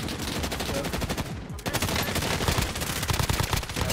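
Rapid automatic gunfire in the video game Warzone, dense rattling bursts with only a brief gap near the middle, loud and continuous.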